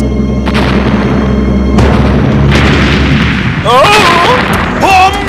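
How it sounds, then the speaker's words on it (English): Barrel bombs going off in the Donkey Kong Country animated series, loud booming blasts with rumbling debris over busy cartoon action, followed by warbling swooping sound effects as the explosions settle. "Barrel bombs!"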